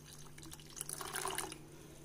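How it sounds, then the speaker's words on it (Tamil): Coconut milk is poured into a pot of boiling sago payasam sweetened with jaggery, giving a soft, faint trickle and patter of liquid with a low steady background hum and no talking. "இப்போ நான் தேங்காய் பால் சேர்த்துக்கிறேன்."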